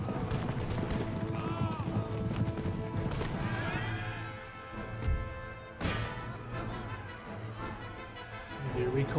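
Cavalry horses in Empire: Total War produce busy hoofbeats, whinnies and neighs over a sustained battle din, with occasional crashes. Someone talks briefly over the fighting.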